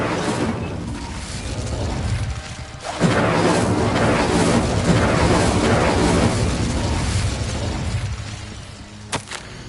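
Incendio fire spell cast in the Hogwarts Legacy video game, a loud sustained burst of roaring flame and explosive crackle that swells sharply about a third of the way in and rumbles on at steady strength.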